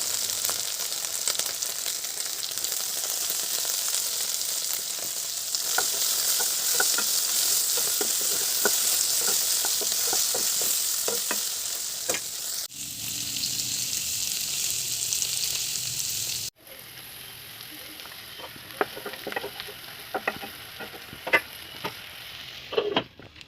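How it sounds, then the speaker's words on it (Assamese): Okra frying in a pan with oil, a loud steady sizzle with occasional stirring clicks and scrapes; the hiss drops suddenly partway through, then sizzles on more quietly with sharper taps. "প্ৰথমতে মই এইদৰে ভেন্দিখিনি অলপ ফ্ৰাই কৰি ল'ম।"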